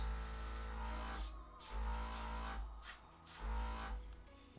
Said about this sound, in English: helps if my airbrush is on, so I'm just gonna turn my compressor on